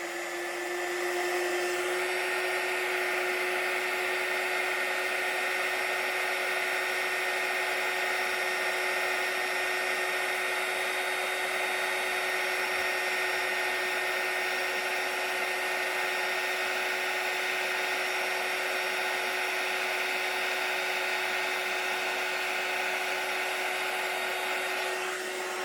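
A heat tool runs steadily throughout, warming embossing powder on paper for a bookmark, a continuous close, loud blowing whir with a faint high whine and no speech over it.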